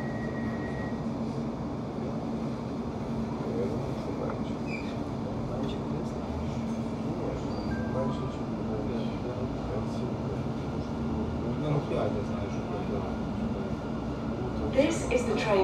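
A London Overground train on the Goblin line, Barking Riverside to Gospel Oak, rumbles steadily from inside the carriage, with a voice speaking over the constant low drone and a few faint squeaks near the end.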